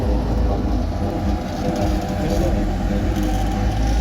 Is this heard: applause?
no